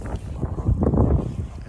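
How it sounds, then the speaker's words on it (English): Gusty wind buffets an outdoor microphone, producing a steady low rumble that swells and fades in waves across the whole moment, with no voice over it. "now it's very windy."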